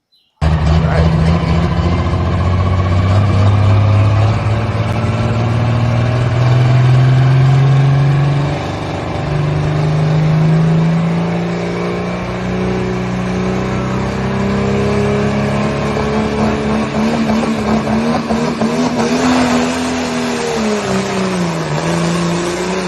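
A pulling truck's engine chugs and roars at a truck and tractor pull, a loud, sustained low drone that shifts pitch as it strains, steady from start to finish without talk.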